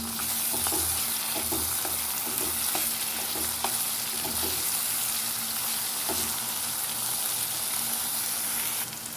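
Chopped tomatoes and green chillies fry in a pan as a macaroni dish is made, giving a steady, close, loud sizzle throughout, broken by a regular series of light spatula scrapes and taps from stirring, with no voices.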